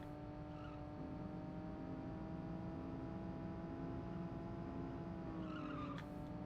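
Racing car engine in the Nintendo 64 arcade racer Cruis'n World, a steady droning hum with sustained tonal whine throughout, shifting pitch near the end alongside a brief tire squeal.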